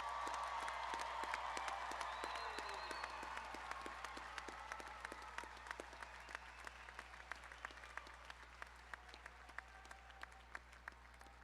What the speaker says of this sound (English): Please join me in providing one last final round of applause for our graduates.